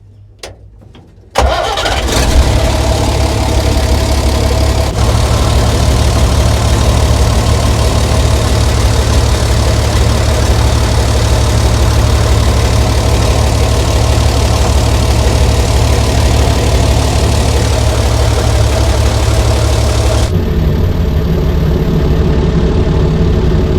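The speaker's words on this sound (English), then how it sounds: "So I'll start it up and just see if I can get it into gear, see whether the clutch will release properly" A 60-year-old International 6x6 army truck engine cranks briefly, catches, and settles into a loud, steady diesel idle with a rough knock, running close by with no talk.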